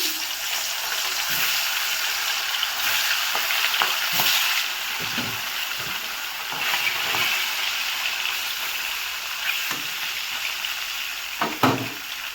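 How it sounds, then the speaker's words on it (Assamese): Pieces of fish fry in hot oil in a wok, giving a steady, loud sizzle with scattered crackles and pops throughout, and no talking. "তেল গৰম হৈছে, ইয়াতে মাছ দি দিম।"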